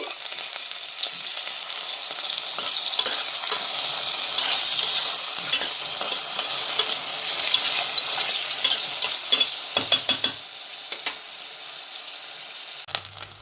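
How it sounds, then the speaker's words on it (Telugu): Boiled eggs and onions fry in a pan for an egg and meal-maker curry, a loud, steady sizzle with scraping stirs and a few sharp clinks of a utensil near the end. "ఈ బాయిల్డ్ ఎగ్స్ కూడా వేసేస్తున్నాను. ఆనియన్తో పాటు ఇవి కూడా ఫ్రై అయిపోతాయి."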